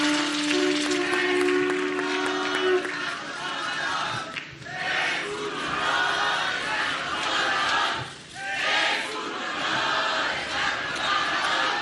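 Audience applause mixed with crowd noise and shouts, moderately loud and rising and falling in waves, with some chatter underneath.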